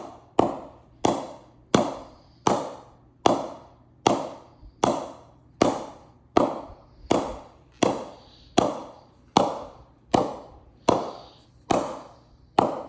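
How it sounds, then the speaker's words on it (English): A cricket ball strikes a fully knocked-in willow cricket bat again and again, about sixteen sharp, woody knocks at a steady rhythm of roughly one every 0.8 seconds. Each knock is close and even in loudness and decays quickly, with no talking. "this is how the ball sounds."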